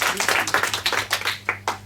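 Audience clapping on a televised junior quiz show, a short burst of brisk, uneven hand claps close by, with a faint voice beneath.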